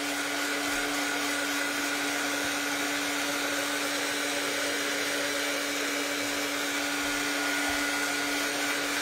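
A hand-held hair dryer blows steadily and loudly on painted art journal pages, a constant whooshing roar with a fixed motor hum running unbroken throughout, with no talking.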